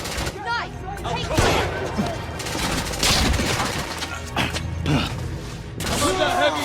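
Heavy gunfire in the video game The Order 1886, rapid bursts of shots and thuds crackling throughout while characters shout over the battle.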